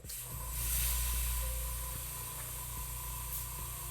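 An airbrush or spray can lays a steady hiss of gray-pink paint onto a garage kit figure, heard close and continuous on its own for a few seconds with no talking.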